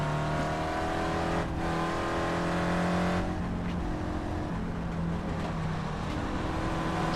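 Porsche rally car engine in a racing video game on a dirt stage, revving loud and steady with shifting pitch through gear changes, close and continuous with no talking.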